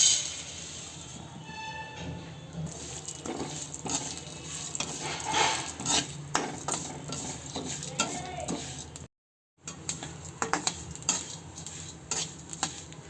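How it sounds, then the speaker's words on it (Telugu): Lentils roast in a dry pan while a spoon scrapes and stirs them, with repeated clinks and rattles of grains over a faint sizzle, broken by a brief gap. "ఇప్పుడు ఇందులోకే మొత్తం పప్పులన్నీ యాడ్ చేద్దాం."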